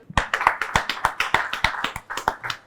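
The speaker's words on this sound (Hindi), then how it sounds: "एक बार जोरदार तालियां विजय भोला जी के लिए" Applause from a TV studio audience during a political debate: a quick, even run of about a dozen sharp claps over a few seconds, close and fairly loud, with no talking.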